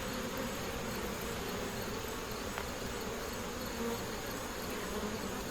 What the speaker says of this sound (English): So many bees.